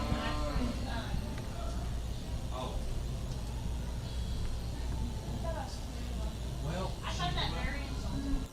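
Cattle low now and then in a team penning arena, their calls sitting under an announcer's steady talk over a constant background murmur.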